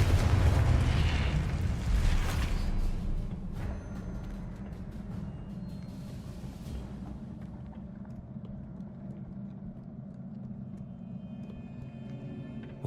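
Confringo spell blasts in the video game Hogwarts Legacy burst with a heavy booming rumble at the start, then a few sharper cracks before settling into a low, sustained rumbling tail.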